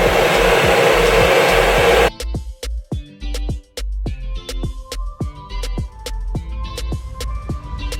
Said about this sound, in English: you're gonna put your blow dryer onto like the perimeter, like your hairline